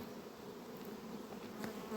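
Honey bees buzz at a hive, a faint, dense, continuous drone of many wings with no talk over it.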